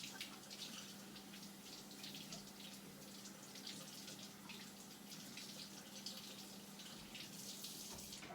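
Water runs steadily from a kitchen tap while a kabocha squash is washed under it, giving a faint, continuous splashing hiss without talking.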